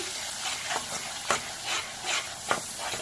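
Masala with dry chili powder frying in a pan for cashew paneer roast, a soft continuous sizzle broken by a few rhythmic scraping stirs of a spatula, close and fairly quiet.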